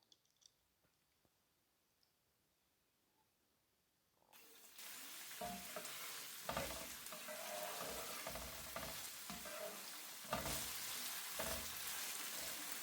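Goat meat sizzles loudly as it is stir-fried on a tawa for a Pakistani Eid dish, a steady close crackle with scraping stirs that begins abruptly after a few seconds of near silence.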